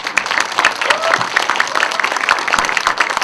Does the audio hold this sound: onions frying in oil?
no